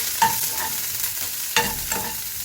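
Crushed garlic, still in its skins, sizzles in hot oil in a pan as it is stirred. There is a steady hiss and a few sharper scraping stirs.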